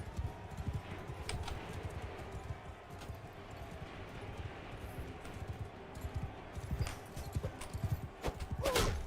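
Horse hooves clip-clop through a medieval battle in the video game Bannerlord, a steady run of hoofbeats with occasional whinnies over busy game noise.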